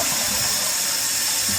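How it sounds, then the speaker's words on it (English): Water runs steadily inside the tank of a Kohler toilet that won't stop running, a constant close hiss and trickle with no breaks and no voices over it. "You can hear a little bit of water running."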